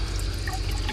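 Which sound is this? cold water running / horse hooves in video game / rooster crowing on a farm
cold water running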